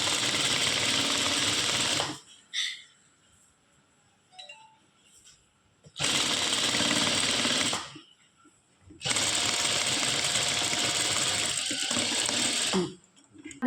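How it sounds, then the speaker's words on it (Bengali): Three long bursts of a home sewing machine running as a sleeve is stitched onto a nightie, each run steady and close, separated by pauses where the fabric is shifted by hand. "ঢুকিয়ে দিয়ে তারপরে আমরা সেলাইটা করব।"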